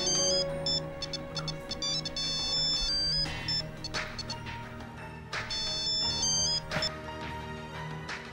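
A melodic phone ringtone plays in repeated bright phrases, steady and moderately loud, with no talking.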